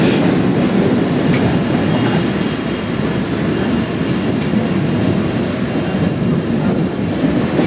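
A local train on the Sealdah to Taki Road line rumbles loudly and continuously at a platform, with a dense mechanical roar and faint rhythmic clatter, close by and with no voices.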